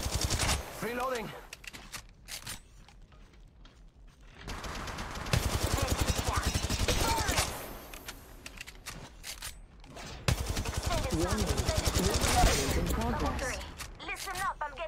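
Automatic and rapid gunfire in the mobile battle royale game Apex Legends Mobile comes in dense bursts: a quieter stretch, then two loud sustained volleys of firing, with voices talking over parts of it.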